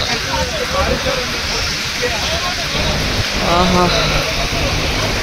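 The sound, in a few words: heavy rain falling at a bus shelter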